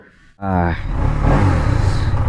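A motorcycle engine starts abruptly and revs up close and loud, the pitch climbing before settling into a steady rumbling idle.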